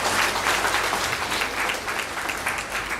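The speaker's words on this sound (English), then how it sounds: "Can we give a very huge round of applause for both of them?" Audience clapping loudly and continuously in a hall after a communication skills session, a thick, even wash of many hands held for several seconds without talking.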